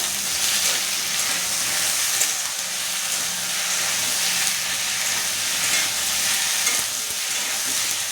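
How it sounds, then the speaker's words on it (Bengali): Spices with ginger-garlic paste and tomato frying for a red meat curry (kosha mangsho): a loud, steady sizzle with bright hiss, occasional stirring scrapes, close and continuous with no talk. "আর সাথে দিয়ে দিচ্ছি একটু আদা রসুনের পেস্ট এই মশলাগুলো ভালোভাবে এবার কষিয়ে নেব"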